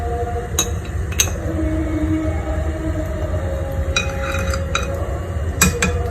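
A utensil stirs chili sauce with onion oil in a frying pan, giving a few sharp metallic clinks and scrapes against the pan over a low steady background, with no talking.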